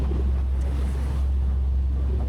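Wind and rough, choppy sea on a tuna fishing boat off Phuket on a rainy day, a steady low roar of waves, hull wash and wind buffeting the microphone, constant and fairly loud with no voices.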